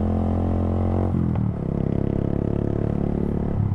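A Suzuki Gixxer 155 with an Akrapovic full-system exhaust, fitted without a dB killer or silencer, idles with a deep, steady throb. After a sharp throttle change it settles into a rougher, uneven burble with faint popping, loud and close-up.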